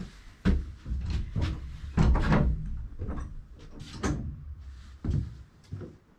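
A vehicle door slams shut, then locks with clunks and latch clicks, during a 4x4 camping trip in the Dargo, Mansfield and Omeo high country; the bangs come as several sharp, close hits spread over a few seconds.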